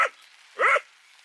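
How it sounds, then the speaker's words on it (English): A dog gives two short, sharp barks, one at the start and a louder one just after halfway, with quiet in between. "No, I don't want to listen to you barking."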